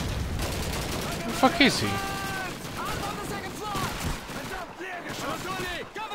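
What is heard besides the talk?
gunfire in Call of Duty 2 video game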